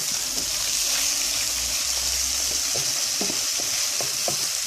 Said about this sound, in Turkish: Sadece 1 dakika şöyle kavuruyorum.